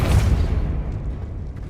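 A Depulso spell blast in the Hogwarts Legacy video game: a single loud, deep boom that hits at once and rolls off into a slowly fading rumble, with no voices over it.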